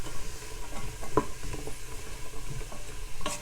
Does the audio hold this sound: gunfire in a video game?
no